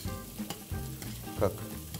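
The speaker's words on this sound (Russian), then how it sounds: "Берем, жарим до корочка." Close sizzling and frying of spaghetti in a pan, with occasional stirring scrapes and clinks over a steady crackle.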